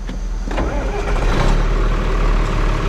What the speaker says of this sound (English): We're going to go start the other tractor that runs the auger up into the grain bin.